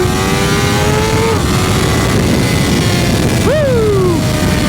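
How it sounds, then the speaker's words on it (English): A BMW M1000R superbike on its stock exhaust holds a steady loud engine drone, then blips sharply upward and falls away in a rev, heard close and continuous against wind and road rumble. "Let's get some revs going."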